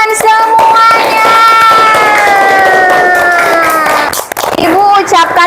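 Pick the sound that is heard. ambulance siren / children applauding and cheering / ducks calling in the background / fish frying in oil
children applauding and cheering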